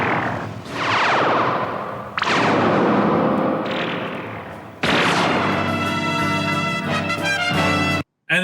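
Federation guns from Blake's 7 fire in a run of loud, ringing science-fiction energy blasts, each a sharp burst with a long descending tail, overlapping in quick succession before cutting off abruptly.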